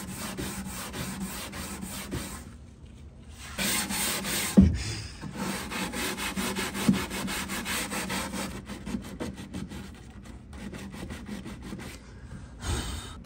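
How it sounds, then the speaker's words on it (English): Hand sanding a mid-century wooden dresser with sandpaper wrapped around curved contours, a steady rasping rub that comes and goes in strokes, with short pauses and a few sharper scrapes. "And then I wrap some sandpaper around some contours, and that also helps me get into different profiles that are hard to reach with my sander."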